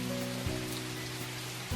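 Pouring rain in a video game: a steady, dense hiss of downpour throughout, with a soft sustained tone running beneath it.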